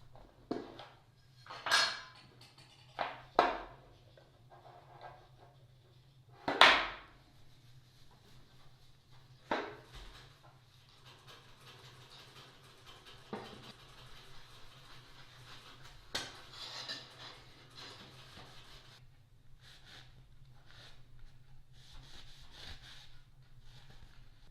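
Paste wax being rubbed onto a wooden sliding dovetail joint in a woodworking shop, with several brief scraping strokes early on, then a quieter, steady rubbing texture close by with no talking.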